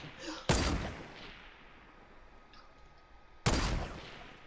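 Two sharp, loud gunshots ring out in a shooter video game, about three seconds apart, each decaying quickly over a quiet background.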